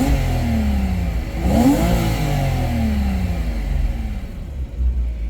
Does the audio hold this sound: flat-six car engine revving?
yes